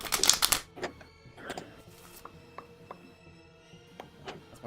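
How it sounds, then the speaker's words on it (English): A deck of playing cards being shuffled at a tabletop, with a loud riffling burst at the start, then scattered light taps and card clicks. "I shuffle cards in a slightly, but not that impressive way"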